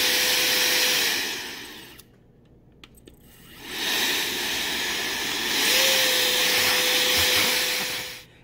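A rechargeable handheld air blower used for nail work runs with a steady, loud whooshing hiss and a faint whine. It cuts out for about two seconds, then starts again and keeps running close by.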